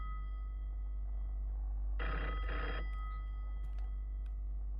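A telephone rings in the video game Egg Fried Rice, one short double burst of electronic bell ringing midway, loud and close, over a steady low hum with no talk.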